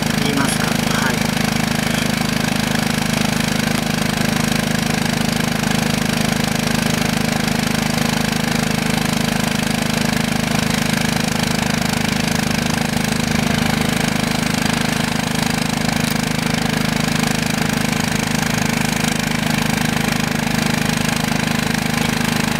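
Engine of an unmanned ground vehicle during a slow driving demonstration, a steady loud drone running throughout without a break.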